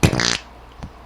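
A voice imitates a fart sound effect with one loud, buzzing, sputtering burst of about a third of a second, then a short faint follow-up.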